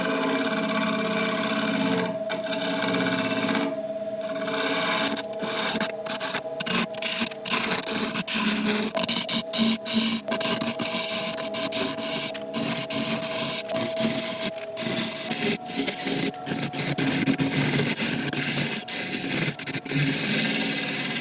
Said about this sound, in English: we'll go over with a negative rake scraper and just take off the high bits